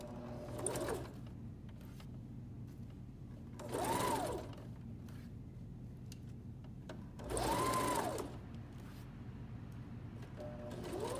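A sewing machine stitches a coverall seam, with two loud bursts of rapid mechanical whirring separated by quieter pauses and a low steady hum throughout.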